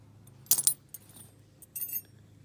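A rusty ring of old keys jangles in two short metallic bursts, close and crisp, with a quiet pause between them and no talking.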